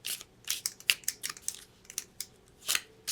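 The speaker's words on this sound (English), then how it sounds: "And I'm going to shuffle." A deck of playing cards being shuffled at a tabletop game session, giving a series of crisp riffling bursts in irregular rhythm, close and moderately quiet, with no talking.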